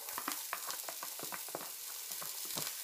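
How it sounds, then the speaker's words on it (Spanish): Chopped onion sizzles steadily in a hot pan, a close, continuous frying hiss dotted with small crackles, with no voices. "Ahora lo que vamos a echar va a ser toda la cebolla. La cebolla picadita."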